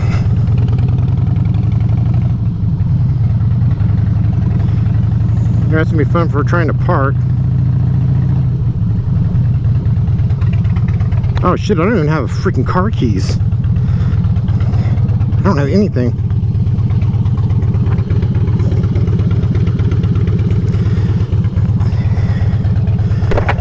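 A 2004 Harley-Davidson Dyna FXDI Super Glide motorcycle idling nearby, a loud steady low engine rumble running the whole time while someone talks over it now and then.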